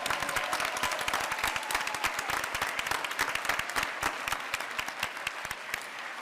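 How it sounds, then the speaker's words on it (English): An audience at a school board meeting gives steady, dense applause for the arriving softball team, with many hands clapping continuously at close range and no talking. "I want to give them a round of applause"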